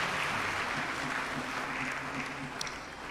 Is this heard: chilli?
no